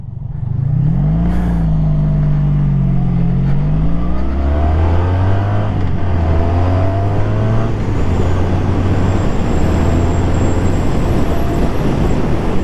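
A 1980s Honda V65 Magna motorcycle engine under way, loud and close, its pitch sweeping up through a rev, dropping at a shift, then settling into a steady powerful drone with wind rush.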